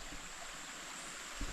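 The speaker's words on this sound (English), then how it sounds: "Okay, I just seen this little creek." A small roadside creek gives a steady, soft wash of flowing water, alone, with a brief low bump near the end.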